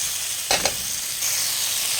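Ground masala for goat head curry sizzles steadily in a hot pan, with a couple of brief stirring scrapes early on and a continuous frying hiss throughout.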